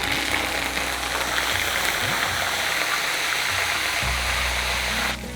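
Curry leaves dropped all at once in a strainer into hot oil for poha chivda, crackling and hissing in a steady, loud, dense sizzle that drops off near the end.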